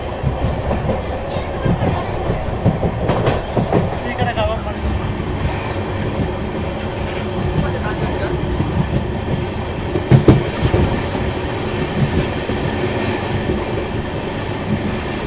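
An express train rumbles across the Pamban bridge with rhythmic clattering wheels and a steady roar, heard from on board, with occasional voices underneath.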